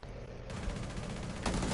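Dense, sustained video game gunfire roars continuously, thickening into a louder wash partway through and again near the end, with no clear gaps between shots.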